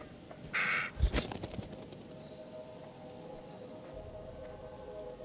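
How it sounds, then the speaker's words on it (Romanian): A crow in the horror game The Devil in Me gives a loud burst of caws, followed by sharp clattering hits and then a low, steady ambient drone. "Nu, nu-i cucuvea, mă, e cioara aia."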